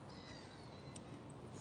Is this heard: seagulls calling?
yes